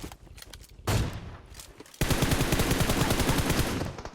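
Gunfire from the PUBG Mobile video game: a short burst of shots, a pause, then a sustained rapid automatic volley rattling loudly for about two seconds before stopping, with no speech.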